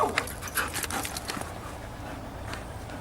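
A protection dog during training in Israel panting in quick, soft breaths, close by and fairly quiet, with a few faint whimpers early on and no talk.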